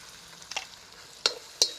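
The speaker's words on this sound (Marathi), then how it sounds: "टमॅटो आपल्याला थोडं मऊ होईपर्यंत परतून घ्यायचं आहे" Tomatoes sautéing with salt in a pan, a faint sizzle with three short stirring scrapes, no talk.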